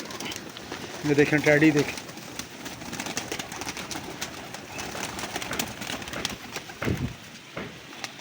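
Pigeons in a home breeder's loft give a short rolling coo, near and clear, amid background bird noise and someone talking.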